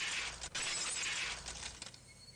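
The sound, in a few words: glass shattering in Higurashi When They Cry video game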